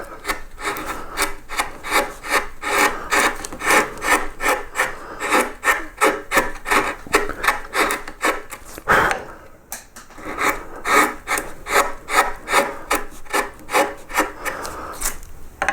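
A carving tool makes slicing cuts across a wooden pierced relief of a yellow flag iris, giving loud, close, rhythmic scraping strokes with a brief pause midway.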